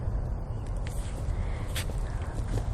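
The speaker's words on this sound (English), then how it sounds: "I hear the birds" Crows caw a few times in an outdoor bosque setting, the calls faint and distant over a steady wash of ambient noise, with one clearer caw standing out near the middle.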